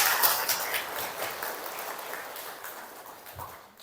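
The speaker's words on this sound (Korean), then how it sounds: "은혜에 감사드리며 박수 좀 한번 칩시다." Congregation clapping during a Catholic confirmation class, a dense patter of many hands heard at moderate distance, tapering off over a few seconds.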